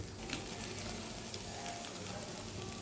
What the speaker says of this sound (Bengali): এবার সয়াবিনগুলোকেও একটু সামান্য কষিয়ে নেবো নেড়ে চেড়ে